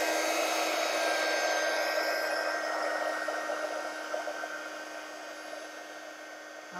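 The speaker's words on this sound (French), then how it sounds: "je vais faire un petit peu de bruit parce que je vais faire chauffer la poudre pour qu'elle devienne un peu transparente et plastifiée" A heat tool blows hot air to melt embossing powder on a stamped watercolour card, giving a steady, loud whooshing roar like a hair dryer that stays constant throughout and fades slightly toward the end.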